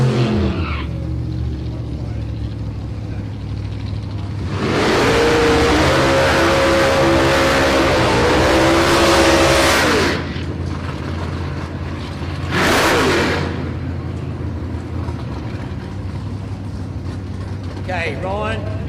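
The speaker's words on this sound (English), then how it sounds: "Ryan Sturska in the immaculate RX-7 Mazda 427 injected" A Mazda RX-7 fitted with a 427 fuel-injected small-block Chevy V8 races at a street drag challenge, its loud engine roar surging from about five to ten seconds and again briefly near thirteen seconds, with an announcer talking over the event throughout.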